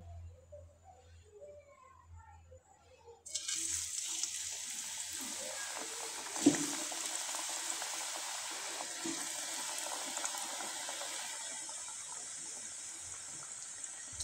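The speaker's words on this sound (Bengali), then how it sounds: "এই পিঠাগুলো আমি কয়েকটা আপনাদের ভেজে দেখিয়ে দিচ্ছি" Semolina and rice-flour pitha cakes dropped into hot oil for deep-frying: a sudden steady hiss of bubbling oil starts after a quiet stretch and continues evenly, close and moderately loud, with occasional spatters.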